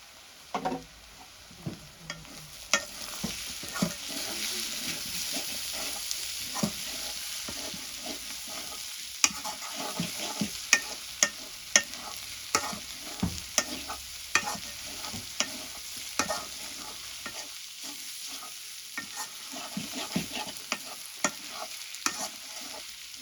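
Ginger, garlic, turmeric and chili are fried in a pan for a curry of hog plum blossoms, with a steady soft sizzle punctuated by frequent clicks and scrapes of stirring.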